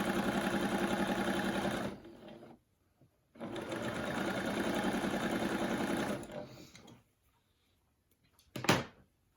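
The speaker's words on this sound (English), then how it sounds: "We'll just run this under the machine." A sewing machine stitching quilt seams runs in two steady, humming bursts of about two seconds each with a pause between, then a brief clunk near the end; no talking.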